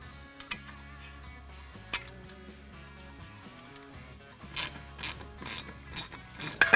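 Screw being driven to join small pump brackets on an in-tank fuel pump assembly for a gas tank conversion, heard as repeated ratcheting clicks, close and moderately loud, growing busier toward the end.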